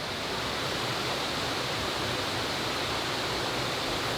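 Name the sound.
Goit Stock waterfall flowing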